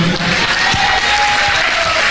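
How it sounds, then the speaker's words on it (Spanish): A church congregation breaks into loud, steady applause during a Christian worship service, a dense wash of clapping that fills the space with a faint sustained tone running underneath. "Denle un fuerte aplauso a Jesús"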